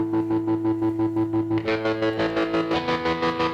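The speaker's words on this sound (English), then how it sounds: "that's where you get more lower that choppy square wave sound" A sustained distorted guitar tone through a Line 6 MM4 modulation pedal chops on and off in a fast, hard-edged square-wave pulsing rhythm, the choppy tremolo growing brighter and busier midway.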